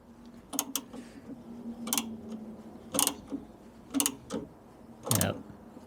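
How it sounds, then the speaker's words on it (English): A VW engine turned over slowly by hand using the alternator pulley gives a series of five or six evenly spaced mechanical clicks and ratcheting clunks, close and moderately loud against quiet. "We're using the generator pulley to turn it, or the alternator pulley even in this case."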